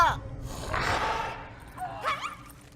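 A dog gives a couple of short yelping barks, with a breathy vocal sound between them, fairly close in a quiet room.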